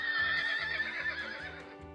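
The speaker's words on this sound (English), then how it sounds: "then the horse whinnied high" A horse whinnies high and loud just after a crash, one long wavering neigh held close, with faint hoof clops thudding underneath in a steady rhythm.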